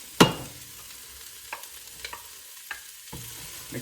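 Garlic, carrot, celery and onion are stirred in a pan: one sharp clatter opens, then a faint sizzle with a few soft scrapes, no voices.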